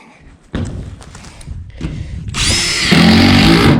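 A power drill drives screws into metal roof purlins on a shop lean-to, with a few thumps and scrapes before a loud, sustained whine of the motor near the end.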